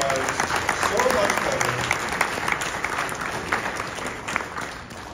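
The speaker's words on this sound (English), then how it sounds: "Give yourselves a round of applause" Audience applause at a film festival's closing ceremony, a steady, dense roar of many hands clapping close by that swells slightly, then eases toward the end.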